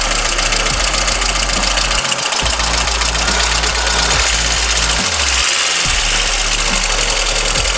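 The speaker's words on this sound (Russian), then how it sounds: "Двигатели работают хорошо, непрерывно" A VAZ car engine idles steadily in Novokuznetsk with fresh spark plugs and wires, a loud continuous rumble with a rhythmic low knocking pulse throughout, no voices over it.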